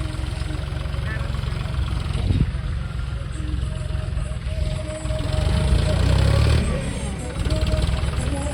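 A low John Deere tractor engine idles steadily throughout in a potato field, its rumble swelling slightly midway, with people talking faintly over it.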